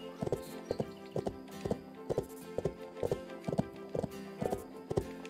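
Rhythmic horse hooves clip-clop in the Bibi & Tina video game, a steady galloping pattern of paired hollow thuds repeating evenly throughout, clean and moderately close with no talk over it.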